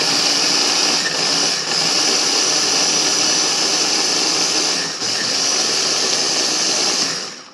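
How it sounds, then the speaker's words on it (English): An appliance steadily grinds oats into a fine powder for protein brownies, giving a loud, continuous whirring roar that runs almost unbroken for several seconds, with two brief dips in intensity. "grind it up until you don't see chunks of oats"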